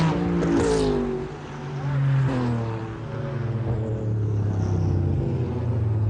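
Porsche 911 race car number 25 roars through Le Mans in 1996, its engine rising and falling in pitch as it shifts gears and passes, loud and close, with a commentator's voice faintly beneath.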